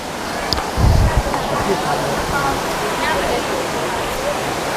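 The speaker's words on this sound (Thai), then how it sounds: "ดี๋ยวเราจะเดินไปดูน้ำตกกันนะคะ" Steady, loud rushing roar of Namtok Phlio waterfall, close by and continuous, with a brief muffled thump early on.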